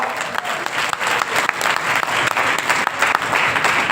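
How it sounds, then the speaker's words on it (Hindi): Audience at a cosmetic products training session applauding steadily, dense continuous clapping from a roomful of people close by, with no pauses for its full length. "एक बार इनके लिए तालियां तो बजाओ"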